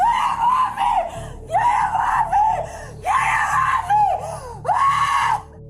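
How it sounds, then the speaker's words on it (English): A woman screams repeatedly while restrained by officers at an airport: five or six loud, long, strained cries in close succession with short gasping breaks between them, near and dominant over a faint background. "Restrained, she keeps on screaming, "Get off of me!""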